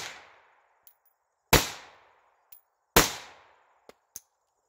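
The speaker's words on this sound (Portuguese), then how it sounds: "Dei só três tiros." Three sharp gunshots from a Diamondback AR-15 rifle in 5.56 NATO, spaced about a second and a half apart, each ringing out and decaying, with lighter metallic clicks between them.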